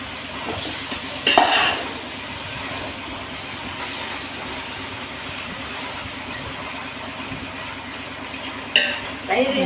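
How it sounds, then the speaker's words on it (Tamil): Pieces of country chicken are stirred into biryani masala in a hot pan, giving a steady close sizzle with a couple of louder scraping stirs. "சிக்கனை போட்டு நல்லா பிரட்டி விடுங்க."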